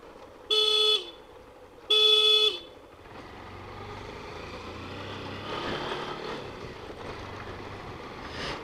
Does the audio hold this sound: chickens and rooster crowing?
no